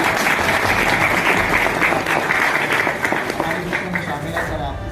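A crowd at a Christmas function in a deputy commissioner's office claps for the deputy commissioner, producing dense, loud, continuous applause for about five seconds that fades slightly at the end.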